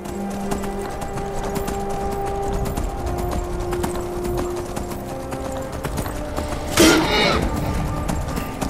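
Horse hooves clip-clop steadily in Skyrim, a regular near gait running through the whole stretch over a quiet game background, with a brief louder burst of noise late on.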